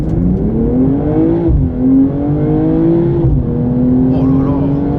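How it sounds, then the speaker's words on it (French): A 2022 BMW M240i xDrive in sport mode accelerates hard from a standstill, its engine note climbing loud and close, breaking at each gear change and rising again. "on va faire un petit 0 à 80. Mode sport, pied sur le frein, pied sur l'accélérateur"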